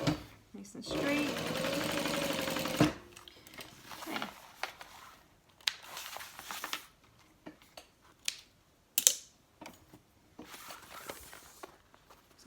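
A sewing machine top stitches a tote bag, running in one steady burst of fast whirring near the start, then stopping amid scattered handling clicks and rustles.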